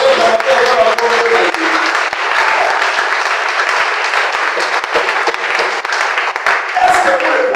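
Church congregation applauding and cheering at a Sunday service, a dense steady wash of clapping from a large crowd that carries on for several seconds, with voices mixed in beneath it.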